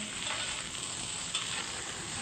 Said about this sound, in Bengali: কড়াইতে সর্ষের তেল দিয়েছি এক চামচ আর হাফ চামচ পাঁচফোড়ন দিয়েছি